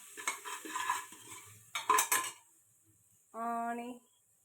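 A spoon stirs a rice mixture with cumin, chilli and chutney in a pot, giving rough scraping and clattering strokes in two bursts, followed by a short steady tonal hum at the end.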